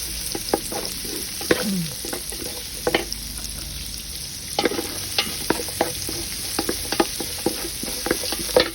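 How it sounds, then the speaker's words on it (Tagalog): Chicken feet fry in a hot pan for pulutan, a steady sizzle broken by frequent sharp pops and crackles, with occasional scraping and stirring close by. "we are cooking chicken feet for our pulutan tonight"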